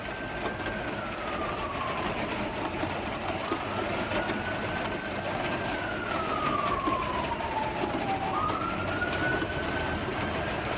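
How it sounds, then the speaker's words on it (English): Police car sirens wail faintly at a distance outside a courthouse at night, the tone sweeping slowly up and down under a steady background hum, with no voices. "Now I hear police sirens."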